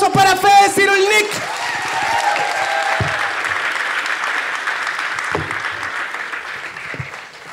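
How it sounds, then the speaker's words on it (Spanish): Studio audience on a Spanish-language comedy show applauding Federico Cyrulnik, a dense sustained round of clapping with some whoops and shouts, starting over a brief burst of music. "Aplausos para Fede Cirulnik"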